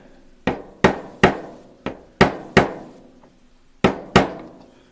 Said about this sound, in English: we're going to get our little pin started here. Okay. And we're going to tap it.